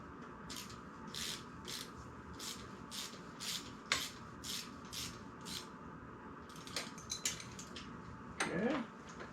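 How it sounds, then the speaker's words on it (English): A crescent wrench working the frame pivot bolts of a 2022 Norco Sight full-suspension mountain bike, a faint, steady series of rhythmic metallic ratcheting scrapes, then a few irregular clinks near the end, close and quiet. "We're going to use a crescent wrench."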